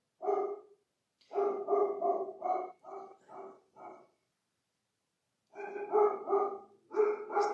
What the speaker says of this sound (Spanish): Está mi perra ladrando